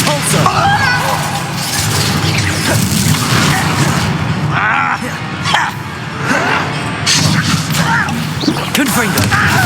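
A forceful Depulso spell impact in Hogwarts Legacy during a duel, heavy booming thumps and crashes amid a loud, busy combat mix with voices speaking over the action.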